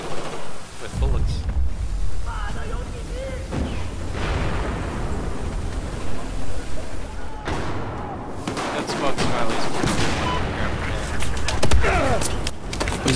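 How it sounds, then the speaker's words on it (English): Gunfire in the video game Battlefield 4, on the Siege of Shanghai map in Rush mode: dense, continuous bursts of shots and explosive booms layered into a loud, chaotic battle din that runs through the whole stretch. "Oh god, they're shooting at me."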